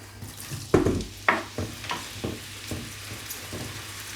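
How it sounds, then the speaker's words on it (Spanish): Leeks cook in olive oil in a frying pan, giving a soft steady sizzle broken by several sharper stirring clatters and scrapes, close and moderately loud with no voices. "En otra sartén vamos a pochar los puerros."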